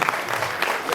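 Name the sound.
audience applause at a film festival event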